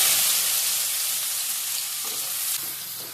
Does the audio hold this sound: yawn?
no